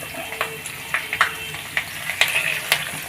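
Curry leaves dropped into hot oil alongside frying bonda made from idli batter give a steady crackling sizzle, with sharper spits and pops bursting out at intervals, close by and with no talking.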